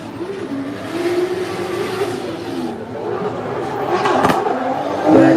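Drift cars, including a Subaru BRZ, race in tandem around a track during a pro drift competition, engines droning and rising with a swell of revving and tire noise near the end, under faint commentary.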